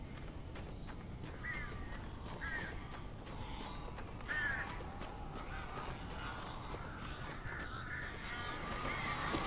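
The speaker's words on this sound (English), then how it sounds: "These birds are weird." Several crows caw repeatedly in the Alan Wake video game, harsh calls at irregular intervals over a thick, noisy ambient background.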